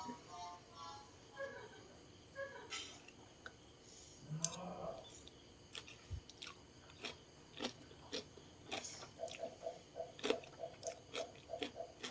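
Close, wet chewing and soft crunching from someone tasting a Thai sour fermented-fish pork roll (moo yor), with irregular bites and clicks coming in bursts throughout.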